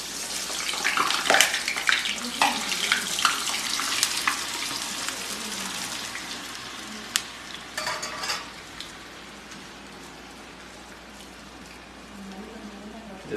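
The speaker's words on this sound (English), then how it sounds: "ఈ French fries కూడా just dip in the oil" French fries sizzle in hot oil with a dense, loud crackle and bubbling hiss that is strongest at first and then settles to a steadier, softer frying sound, with a few faint clinks.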